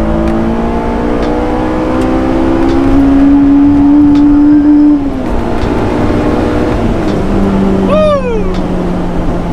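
Honda S2000 engine revving hard in third gear, pitch climbing steadily toward 9,000 RPM, then a brief drop at the shift as it pulls again, loud and close throughout, with a high whine sweeping up near the end.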